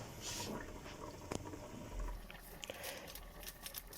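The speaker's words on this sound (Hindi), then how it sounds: "पानी को बॉयल आ गया है दोस्तों।" Water boils in a covered pot for chicken pulao, a faint simmering hiss with scattered soft bubbling pops and drips.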